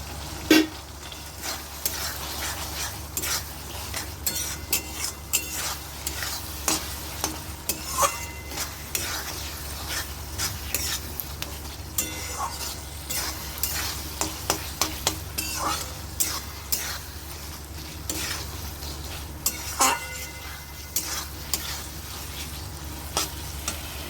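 Soybean chunks fry in a pan with yogurt and poppy seed paste, a continuous sizzle broken by frequent clattering scrapes of the spatula as they are stirred up close, with no talk.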